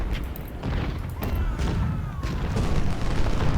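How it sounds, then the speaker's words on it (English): Artillery shelling in the video game Ultimate General: Civil War, a dense rumbling layer of repeated booms and distant cannon fire continuing throughout, with no talking. "you're also getting shelled by artillery"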